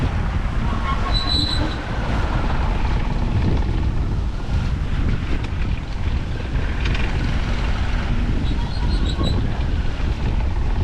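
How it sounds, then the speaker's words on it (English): Steady wind roars across a 26 ft sailboat sailing solo in the open Pacific, blowing at about 20 knots. Broadband rushing and buffeting hiss runs continuously at close range, with faint creaks and water noise underneath. "I think the wind is, you know, 20 knots is pretty typical out here."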